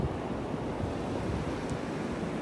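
Ocean waves washing up on a beach in North Naples, Florida, a steady, continuous roar of surf with wind noise buffeting the microphone, loud and unbroken throughout.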